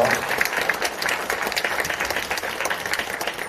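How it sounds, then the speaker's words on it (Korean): A lecture-hall audience in a university auditorium applauds after a talk, dense steady clapping from many hands, continuous and fairly loud throughout. "네, 큰 박수 부탁드리겠습니다."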